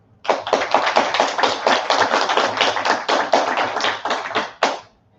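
A crowd applauding steadily, dense overlapping claps sustained for about five seconds, with no talking over it.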